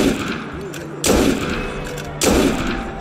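Two loud, sharp firearm shots ring out about a second apart in the video game Assassin's Creed Unity, each followed by a decaying echo over the game's background ambience.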